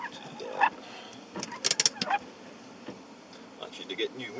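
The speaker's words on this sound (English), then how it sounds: "I need to get new windscreen wipers, so I shouldn't be squeaking" Worn windscreen wipers on a car in snowy weather, squeaking across the glass in a quick cluster of short, sharp squeals over a quiet background hum, with a few fainter chirps before and after.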